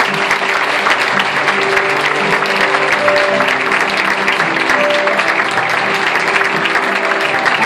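Sustained applause from an audience at a tribute to senior citizens in Barrial de Gáldar, loud and continuous clapping with a few faint tones underneath.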